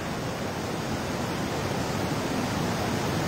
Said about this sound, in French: Et là, on est vraiment des cascades.